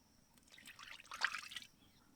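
Cooking oil poured into a pan for a North Karnataka ridge gourd (hirekayi ennegayi) dish, a soft, faint liquid trickle that swells briefly and then fades out.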